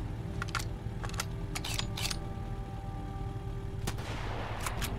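Several sharp gunshots crack from a firearm in the Sunkenland video game, a few quick separated bursts followed by a louder distant-sounding report, over a steady low game ambience with no talking.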